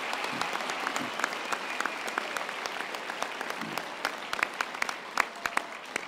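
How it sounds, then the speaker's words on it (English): A graduation ceremony crowd applauds steadily throughout, dense sustained clapping with sharp individual claps popping out, fairly loud and continuous. "I really want us to give you a deserved round of applause for this very special achievement"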